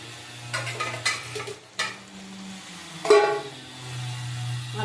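Fried, pre-boiled potatoes tumble into a pan of partly cooked panch phoron yogurt chicken curry, followed by several sharp clatters and scrapes of a spoon against the pan over a low steady hum.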